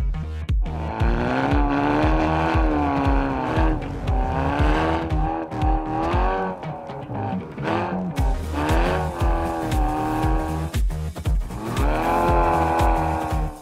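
A Hyundai i30 N sports car still in development, driven hard during winter testing: a loud, continuous engine note rises and falls as it revs through the gears, with squealing tires and no talking.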